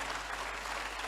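Audience applauds the organizers at a motivational event, a dense, steady burst of clapping from a crowd with no break.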